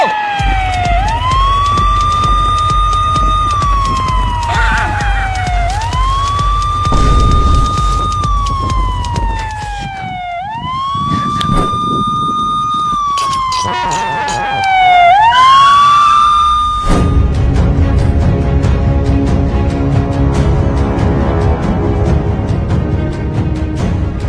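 A police siren wails loudly and close by, its rising and falling sweeps repeating for about seventeen seconds before cutting off, leaving rumbling traffic-like noise behind.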